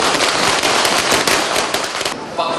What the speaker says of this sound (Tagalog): Tila di maubusan ng mga paputok ang mga taga-Tondo dahil maaga pa'y wala nang tigil ang putukan.